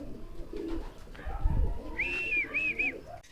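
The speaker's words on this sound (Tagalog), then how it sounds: "yung isang kalapate natin tumambay" A racing pigeon gives soft cooing and whistly calls near a loft, fairly close, with faint background stirring and no clear speech.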